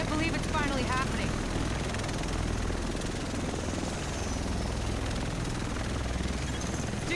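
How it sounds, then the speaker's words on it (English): A military Osprey helicopter arrives in The Division video game, its rotor wash a loud, steady roar that fills the whole stretch without letting up. "The rest of us should be in this chopper."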